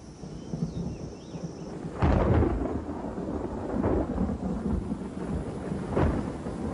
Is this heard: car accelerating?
no